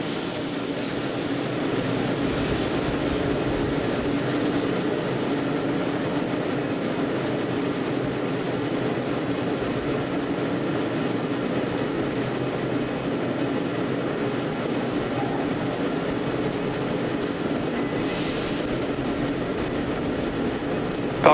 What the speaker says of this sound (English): Gas close up and started. Expect loud venting.